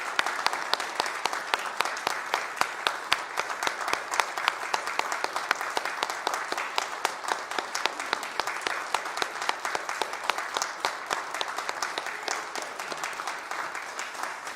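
A church congregation applauds at the start of a worship service, a steady dense wash of many hands clapping that holds evenly loud throughout without letting up.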